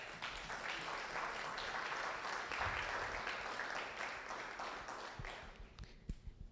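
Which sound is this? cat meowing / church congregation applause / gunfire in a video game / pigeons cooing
church congregation applause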